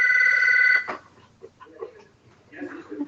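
A phone rings with a loud electronic ringtone for under a second, then cuts off abruptly, followed by quiet talking and faint rustling.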